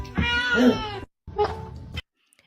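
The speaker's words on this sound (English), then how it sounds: "if you've never had a ginger cat before, this is all ginger cats. They are the most weird little talkative creatures ever" A ginger cat meows loudly and close up, giving one long drawn-out call and then a shorter second one, with silence after.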